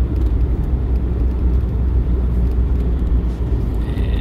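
A car drives along an Alaskan road in winter, past ice overflow, with a steady low engine and tire rumble heard from inside the cabin, continuous and fairly loud without talk.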